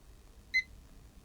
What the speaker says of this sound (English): multimeter in diode mode.